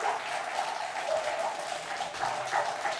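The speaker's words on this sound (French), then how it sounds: "vous pouvez les applaudir" A gathering claps for guests, a dense, even patter of many hands at moderate distance that carries on throughout, with a faint murmur of voices beneath.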